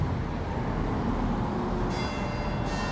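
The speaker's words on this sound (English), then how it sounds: "let's stay outside and listen to the bells" Church bells in Jerusalem ring out distantly, their tones half-buried under a heavy, steady rumble of low background noise.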